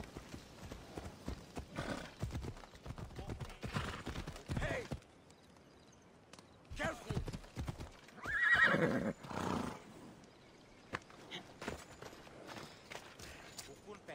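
Phobos the horse gallops in Assassin's Creed Odyssey, with clip-clop hooves and a whinny mixed under game dialogue and shouting voices, loudest around the middle.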